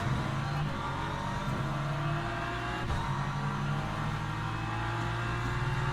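An Aston Martin race car engine in the Le Mans Ultimate racing game drones loud and close with a steady, buzzy tone, dipping briefly as if shifting, then holding high revs throughout.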